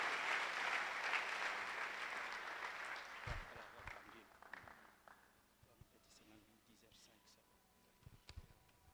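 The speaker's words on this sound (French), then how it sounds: "Nous voulons encourager le pasteur Makassi qui s'avance par nos acclamations" A church congregation applauds as the pastor comes forward. The clapping starts loud and dense, then thins and fades out, leaving scattered claps and room noise.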